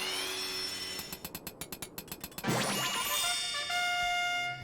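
In Final Fantasy XIV, a hammer taps an antique being restored: a quick even series of about ten light metallic strikes over a steady hum, then a bright shimmering chime swells.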